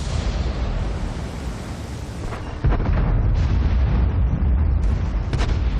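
A KV-5 tank's gun firing high explosive rounds in World of Tanks, heard as a heavy, booming blast that gives way to a loud, sustained low rumble of engine and battlefield noise.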